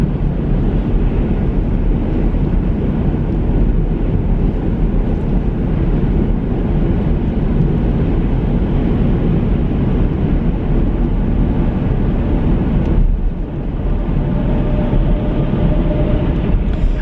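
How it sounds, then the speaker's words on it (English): Strong wind blows outside, a loud continuous rushing roar with gusty buffeting that stays steady and dense, dipping briefly near the end before surging back. "Do you guys hear the wind outside?"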